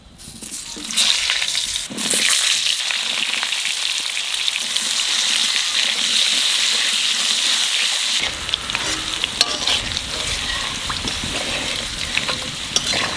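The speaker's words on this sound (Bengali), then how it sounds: "মাছ ভাজার তেলের মধ্যে আলুগুলো ভেজে নেব।" Potatoes frying in leftover oil from frying river katla fish: a loud, continuous close-up sizzle with stirring, its texture changing partway through.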